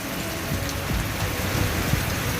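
Steady rain falls outdoors in a broad continuous hiss, with scattered louder drops and a faint low rumble underneath, no voices.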